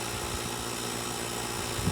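A truck engine idles steadily in freezing cold, a constant low rumble with a mechanical hum that holds even throughout, growing slightly rougher near the end, with no talking.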